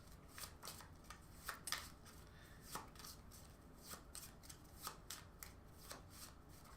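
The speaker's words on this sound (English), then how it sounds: "and then shuffle it" A deck of baseball game cards is shuffled by hand, a quiet run of soft, irregular riffling clicks and snaps spread through the clip with no talking.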